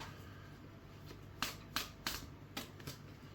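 Tarot cards are shuffled and drawn, with soft riffling followed by five sharp, close card snaps and flicks in an irregular rhythm over a quiet room background.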